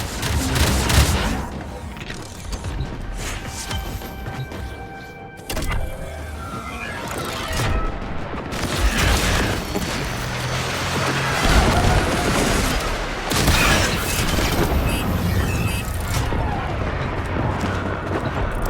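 Spaceship weapons fire and explosions rumble through a Warframe Railjack space battle, a dense, loud, continuous wash of blasts and booms with bursts of sharper impacts across the whole stretch, and no talk over it.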